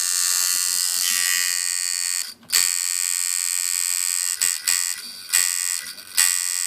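A rebuilt tattoo machine without an O-ring buzzes loudly and steadily in bursts, with short cutoffs and restarts between runs and no talking.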